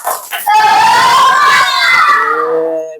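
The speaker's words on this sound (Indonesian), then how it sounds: "Sekarang yang cowok tepuk semangat." A class of boys bursts into a loud, shouted 'tepuk semangat' clap cheer together, a brief rising chorus of young voices that fills the room for a few seconds before tapering off.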